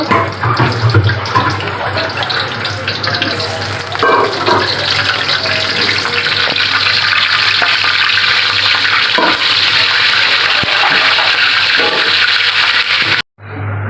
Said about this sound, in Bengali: ফুলকপি আলুটা সুন্দর করে এখন আমি ভেজে নেব